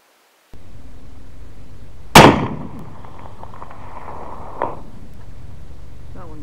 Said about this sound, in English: Today I'll be shooting my Sharps rifle for the very first time using shooting sticks at 500 yards.